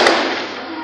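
Sharp gunshot fired by armed robbers during a bank attack in Edo, a single loud crack that fades into a lingering outdoor echo and rumble.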